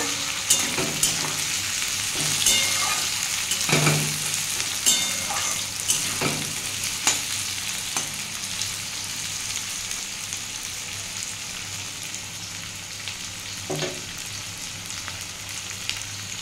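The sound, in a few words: frying onion and tomato in a pan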